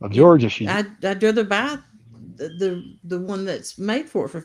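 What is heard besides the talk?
None of the usual background noises is heard.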